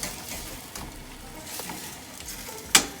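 Eggplant frying in a pan for Moroccan zaalouk dip gives a soft, steady sizzle with faint stirring, capped near the end by one brief, sharp clink.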